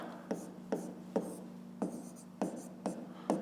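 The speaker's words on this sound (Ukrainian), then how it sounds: "Так і запишемо. Отже, пишемо так." A pen or pencil writes on paper during a math exercise, giving a series of short, close scratching strokes in an uneven rhythm, about eight strokes in a few seconds.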